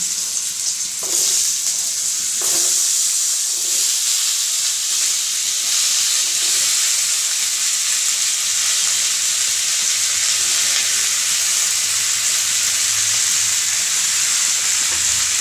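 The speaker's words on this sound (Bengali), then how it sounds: "এইবার এর মধ্যে আমি আলুগুলো ছেড়ে দিয়ে একটু ভাজা ভাজা করে নেব।" Potatoes frying in hot oil in a pan for an aloo-peyajkoli posto, a loud, steady hiss and sizzle with a few soft stirring knocks early on and no talking.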